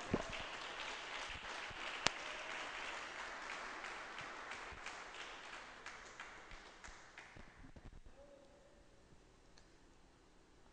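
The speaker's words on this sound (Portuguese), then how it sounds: "glorifique a Deus com palmas bem fortes" Church congregation clapping hard, a crisp sustained patter of many hands that fades away after several seconds into a quiet room.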